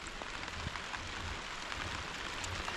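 Rain falls steadily outdoors on a homestead, a soft continuous patter with scattered louder drops, fairly quiet and with no talking.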